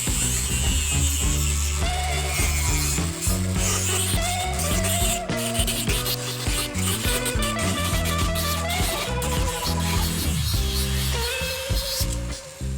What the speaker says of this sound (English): Now I've freed my little flex shaft, and I'm gonna go back and take off all of these little marks on the back of every piece.